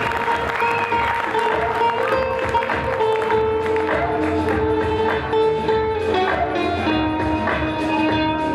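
An audience welcoming the jury chair at the Miss Shida Kartli 2012 pageant breaks into loud, sustained applause, dense clapping continuing evenly throughout with music tones sounding underneath.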